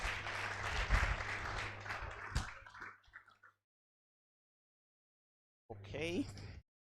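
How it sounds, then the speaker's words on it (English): An audience at a graduation reunion claps for a lecturer in a short burst that fades out, followed by silence and then a brief spoken voice. "A round of applause to the lecturer once again."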